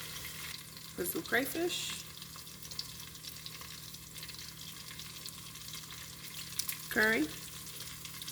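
Jollof rice made with leftovers sizzles faintly and steadily in a pot while it is stirred. A voice speaks briefly twice over the cooking.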